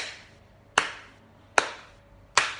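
Three single, crisp hand claps land at a slow, even pulse about 0.8 seconds apart, each ringing briefly into a roomy decay, with no voices or other sounds.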